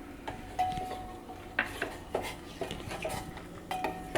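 A spoon stirs a rice-free modak mixture of boiling milk, water and a pinch of salt in a metal pot, giving soft, repeated scrapes and light clinks close by.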